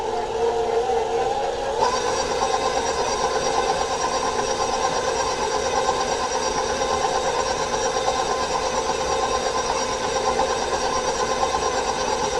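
An electric mixer runs on low speed through chocolate chip cupcake batter, a steady, even whirring hum that continues without a break, with no voices heard.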